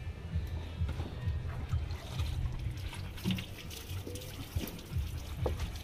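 Water trickles and splashes while Max the dog is bathed, a soft, uneven pouring and dribbling close by at low volume.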